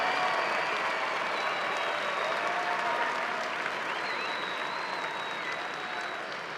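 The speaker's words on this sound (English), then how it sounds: "Let's give one last round of applause to our graduates, their families, friends, loved ones, faculty, and those that have supported the journey." A large crowd at a university spring commencement keeps up sustained, dense applause for the graduates, a loud continuous roar of clapping that tapers slightly toward the end.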